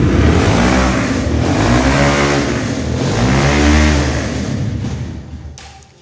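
Engine of a Honda CRF 250cc replica motorcycle with a large exhaust, close by, revving up and down in throaty swells, rising to a loud peak before dropping back toward idle.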